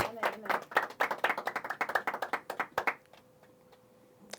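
A congregation applauds during a Spanish-language religious service: dense, brisk group clapping for about three seconds that tapers off into a few scattered claps, leaving a quiet room with a faint steady tone.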